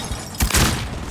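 A frag grenade going off in Call of Duty: Warzone, one short, loud, muffled blast lasting well under a second.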